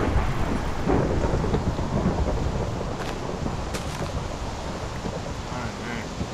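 Thunder rumbling through a rainstorm in the Minecraft video game, a loud continuous roar of rain and wind with low rolling booms and a couple of sharper cracks.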